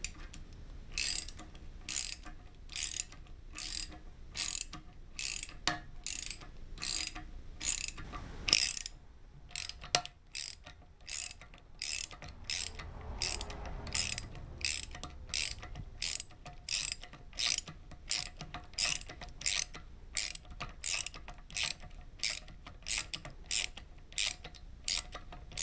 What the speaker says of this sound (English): Now we'll tighten up the other bolt.